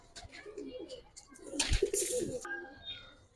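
Giribaz and coloured Indian pigeons coo in low gurgling phrases among flutters and handling noise, with a brief louder rustling burst in the middle.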